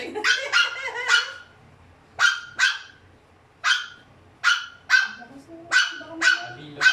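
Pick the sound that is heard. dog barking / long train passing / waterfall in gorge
dog barking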